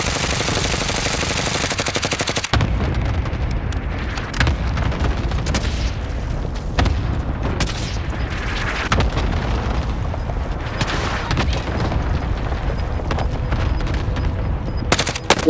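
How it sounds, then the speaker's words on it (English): Call of Duty Modern Warfare cluster strike: a rapid chain of heavy explosions and booming impacts pounds on for many seconds, mixed with gunfire, loud and continuous with little speech. "Allied cluster strike"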